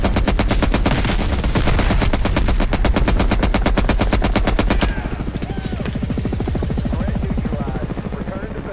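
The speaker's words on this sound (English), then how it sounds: "that is our chopper" A helicopter in Call of Duty Black Ops Cold War, its rotor chopping in a fast, steady rhythm close and loud, with rapid machine-gun fire hammering over it for the first half before the rotor carries on alone.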